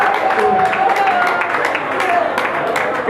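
An audience applauds at a gathering, a steady wash of many hands clapping, loud and sustained, with voices mixed in over it.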